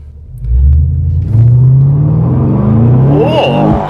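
A Holden VF SS Walkinshaw Commodore with an enhanced 315 kW engine pulls away hard up the road, its deep exhaust rumble climbing through the revs in a steady, loud surge with a brief shift partway through.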